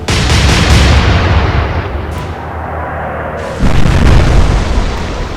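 Heavy naval guns firing in the Atlantic Fleet warship game: loud, booming salvos with rumbling tails, one blast at the start and another around the middle, with no voices.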